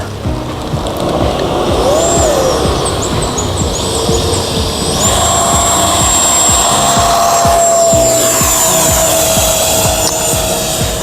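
An Arrows Hobby Viper 50 mm electric ducted-fan RC jet with wheels fitted flies and comes in to land, a loud continuous whine with rising and falling pitch sweeps close by, then the pitch drops as it glides in.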